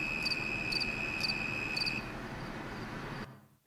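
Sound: tree cricket chirping, played recording

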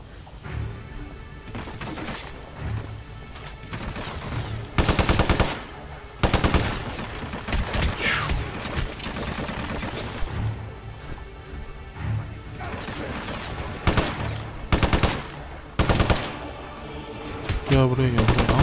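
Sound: gunfire in a video game (Hitman Absolution)

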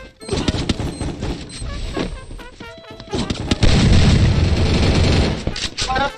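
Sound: grenade explosion and gunfire in a video game shooter

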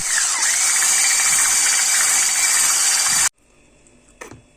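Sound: electric mixer whipping cream for cake

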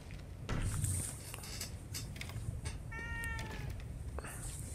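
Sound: cat meowing in the video game The Evil Within 2

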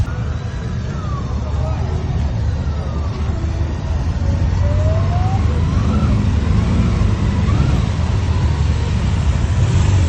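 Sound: motorcycles arriving at a motorcycle rally

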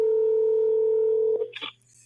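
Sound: telephone dial tone while calling a guest

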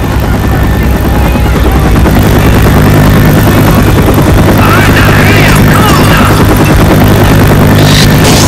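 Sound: helicopters flying in a video game

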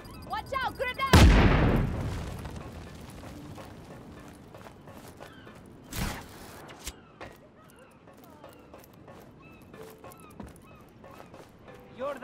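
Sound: grenade explosions and gunfire in the video game Just Cause 3

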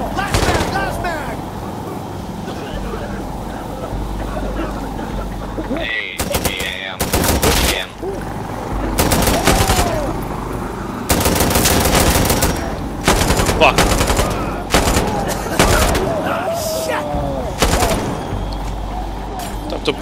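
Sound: machine gun fire in a video game

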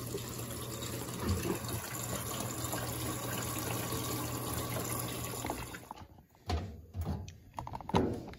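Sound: Electrolux washing machine filling with water for rinse

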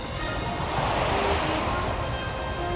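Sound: waterfall in video game Zelda: Tears of the Kingdom

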